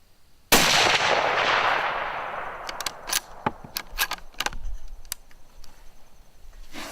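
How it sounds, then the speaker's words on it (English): One sharp, loud rifle shot cracks across an outdoor range and trails off in a long echoing decay, followed by a scatter of short nearby clicks and clacks. "let's fire 2 rounds there at 100 yards with what the gun is sighted in at"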